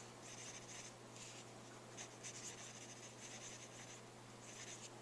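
Pen writing a check amount out longhand on paper, steady scratchy strokes in short bursts with brief pauses, close and quiet over a low electrical hum.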